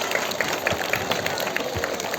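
Applause in a crowd for students who won scholarships at a Student Police Cadet passing-out parade in Idukki, steady dense clapping filling the whole stretch at moderate level with no voices over it.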